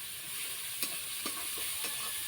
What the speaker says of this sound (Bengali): পেঁয়াজ আর রসুন আমি লাল লাল করে ভেজে নিব